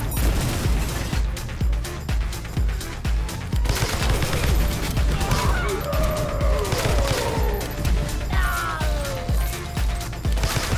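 Rapid bursts of gunfire in a beat-'em-up street brawler game ring out repeatedly over a dense, busy game soundtrack with mechanical clanking, loud and continuous throughout.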